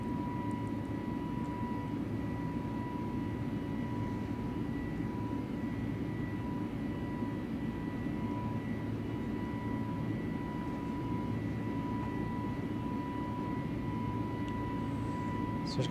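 FlyByWire A32NX airliner jet engines at climb thrust in Microsoft Flight Simulator, a constant roaring whine with steady tonal hum that holds evenly throughout.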